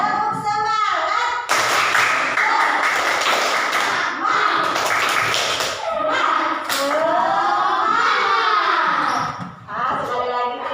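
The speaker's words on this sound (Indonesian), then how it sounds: "Yuk, tepuk semangat." A classroom of students performs the rhythmic Indonesian 'tepuk semangat' spirit clap, bursts of loud patterned group clapping near the listener, separated by a teacher's speaking and the class's chanted voices.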